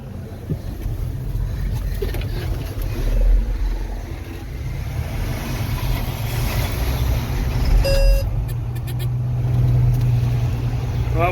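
A farm engine idles steadily in neutral with the throttle at idle, a continuous low rumble that holds even throughout, with brief higher clanks and rattles partway through.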